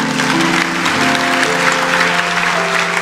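Church congregation applauding during a sermon, a steady wash of clapping with sustained keyboard or organ chords playing underneath.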